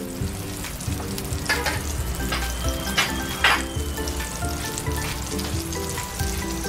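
Butter sizzles and crackles steadily in a hot pan before salmon goes in, a loud continuous fry with occasional sharper pops and a faint stir near the middle.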